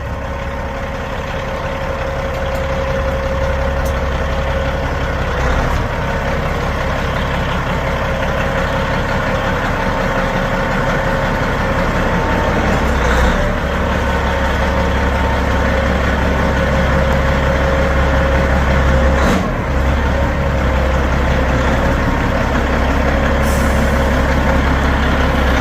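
A Kenworth W900 truck with a clutch and flywheel problem rumbles in, its heavy diesel engine loud and steady near the listener, with faint hisses and clanks over the low drone; no voices.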